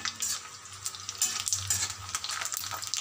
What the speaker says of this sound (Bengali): এবার এই তেলের মধ্যে দিয়ে দেবো কয়েকটা ফুচকা।